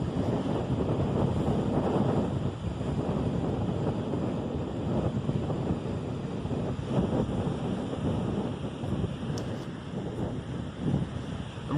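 Extreme wind gusts in central New Mexico roar steadily and loudly against the microphone with constant rumble and buffeting, no voices heard.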